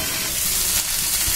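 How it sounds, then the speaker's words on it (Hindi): Vegetables sizzling in hot oil with turmeric and chili powder, a steady close frying hiss with faint stirring scrapes, no talking. "डाल के फिर से थोड़ी देर हम लोग फ्राई करेंगे"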